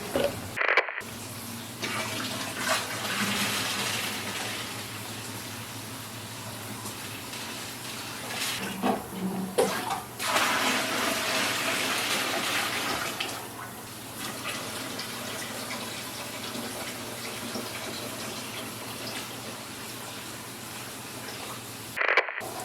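Running water pours steadily into a 15-gallon aquarium tank, a continuous splashing rush that carries on for the whole stretch with small shifts in intensity.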